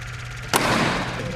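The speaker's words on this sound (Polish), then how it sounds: "Widzimy pad strzał." A single sharp gunshot rings out during a World War II Monte Cassino battle reenactment, a sudden loud crack with a reverberant tail over a steady outdoor background hum.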